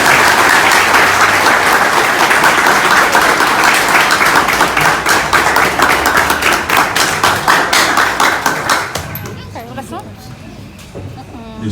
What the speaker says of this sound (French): Je vous demande de l'applaudir encore plus fort.